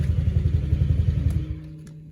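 A Honda Vario scooter engine idles with a steady, fast low putter, then is switched off and the sound cuts out, leaving a faint fading tail and near silence.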